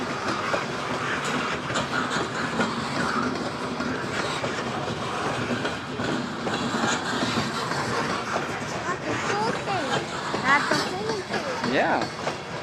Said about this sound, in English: Here comes some other coal cars down there.